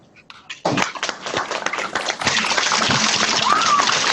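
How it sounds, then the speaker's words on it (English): Applause for Pro Football Hall of Famer Charlie Joiner from an online audience breaks out abruptly and fills the clip as dense, steady clapping that swells slightly toward the end. "join me in giving a warm round of applause to Pro Football Hall of Famer, Mr. Charlie Joyner"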